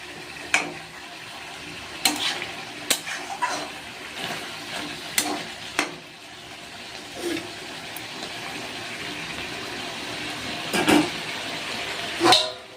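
Chicken kosa is stirred in a pan, with repeated scraping knocks of a spatula against the metal over a soft, steady sizzle, close and moderately loud.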